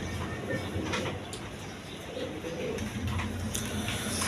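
Red Gopalganj pigeons coo softly among other birds in a noisy setting, the calls faint and mixed with background clatter.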